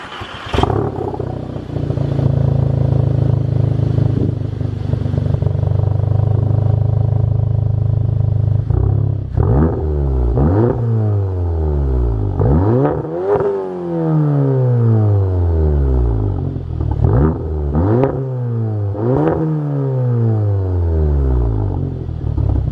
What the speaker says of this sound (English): I'll show you guys what it sounds like right now